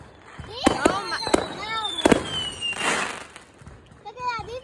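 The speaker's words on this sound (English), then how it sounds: "It's like they're all these fireworks. These are the loud ones." Loud 4th of July fireworks go off in close succession, with sharp booms, whistling rockets and crackling bursts, and a person speaks between the blasts.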